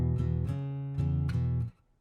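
An electric guitar plays a 12-bar blues rhythm pattern the common way: steady strummed chords with a new attack about every half second, close and clear, ending abruptly with no talk.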